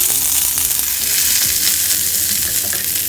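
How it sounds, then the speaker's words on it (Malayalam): Sliced onion and a sprig of curry leaves sauté in hot oil in a pan, giving a loud, continuous sizzle with stirring scrapes and no voices. "നന്നായി വഴറ്റിയെടുക്കാം."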